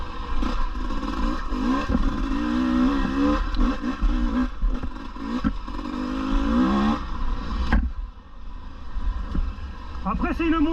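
A KTM 250 EXC 2024 dirt bike engine revs and pulls through the gears, rising and falling in steady surges, close and loud, with a sharp drop near the end before it picks up again.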